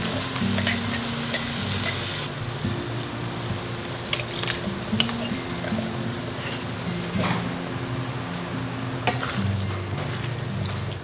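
Canned carnitas meat, straight from the jar, sizzles steadily in a pan over low heat, a constant close frying crackle with occasional sharper pops and stirring scrapes.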